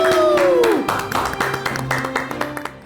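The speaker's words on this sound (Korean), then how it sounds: "큰 박수 부탁드립니다." At a lecture in a hall, audience clapping builds as a brief musical tone fades, then continues as a scattered, moderately loud patter of hands with a low hum beneath it.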